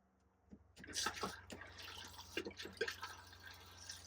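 An RV toilet is flushed while the rig is being winterized, giving a faint trickle and splash of water with a few drips and soft clunks, quiet and close.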